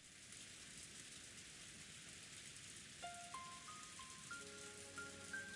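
Steady rain sound effect from the visual novel game Umineko, a soft continuous hiss of falling rain throughout, with faint tonal music notes entering partway.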